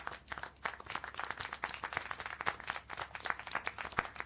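Quiet, rapid clapping in the video game Syberia The World Before, with uneven, overlapping claps, like several hands applauding steadily at a low level, no voices.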